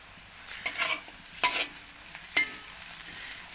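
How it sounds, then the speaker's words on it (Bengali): Chilies and onion fry lightly in a pan while a utensil stirs them, producing three distinct scraping, sizzling bursts over a soft background hiss. "একটু ভেজে নেব, হালকা ভাজা"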